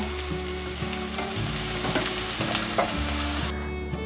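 Diced shiitake mushrooms and potatoes fry in a pan with a steady, close sizzle and occasional stirring scrapes, with no talk over it.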